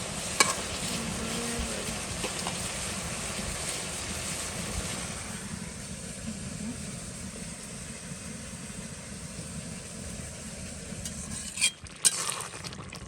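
Fish added to vegetables frying in a pan gives a steady, close sizzle with stirring noises throughout, then a couple of sharp clatters near the end.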